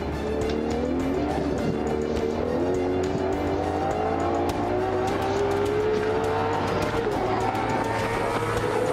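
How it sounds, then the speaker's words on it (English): A Ferrari 812 Competizione engine revs up through rising pitches with distinct gear shifts on the Fiorano track, loud and close, continuous the whole time. "what great sound revving up in this sound shifting"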